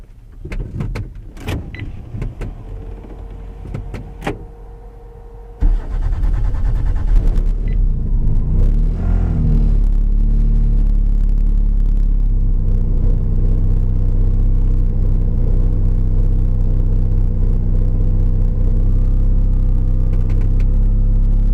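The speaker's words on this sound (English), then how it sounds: "it's going to be first drive on the new clutch." A car breaks in a new ACT clutch, starting with clunks and mechanical knocks before a loud, steady engine and road rumble takes over and holds as the car drives off.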